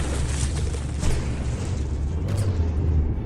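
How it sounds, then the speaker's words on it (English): A shell bursts against a battleship's rear turret in the From The Depths tournament, a dense, continuous battle rumble with heavier booming swells near the start and again later. "it just nailed a good shot into this rear turret here"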